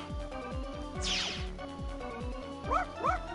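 Robot dog Rush barks in the Megaman 8 video game, giving a rapid run of short, sharp, synthetic yips with a couple of rising whine-like calls near the end, clear and close.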